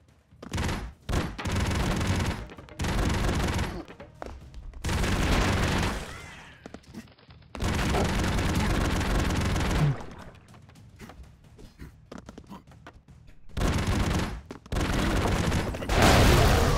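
Bursts of video game gunfire and explosions from Broforce, several loud dense volleys of rapid shots separated by short quiet gaps, with no talking over them.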